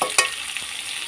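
Fish roe stirred in a pan with salt and turmeric, a soft hiss of frying with one sharp scrape of the spoon near the start, close by and alone.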